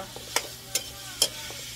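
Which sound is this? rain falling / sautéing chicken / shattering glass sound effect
sautéing chicken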